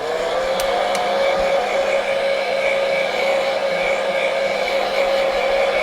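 Hair dryer blowing over a painted stencil to dry the paint, a steady, loud whirring roar with a constant motor whine that holds unchanged throughout, with no talking.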